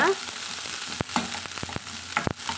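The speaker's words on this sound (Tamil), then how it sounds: "நம்ம இந்த வெட்டி வச்சுக்கிற சின்ன வெங்காயம் வந்து பொடுசாக வெட்டி வச்சுக்கிறோங்க அதையும் சேர்த்து நம்ம வதக்கலாங்க" Finely chopped shallots sauté in hot oil with neem flowers for an Ugadi neem-flower pulusu, a loud continuous sizzle broken by a few sharp stirring clicks from the spatula.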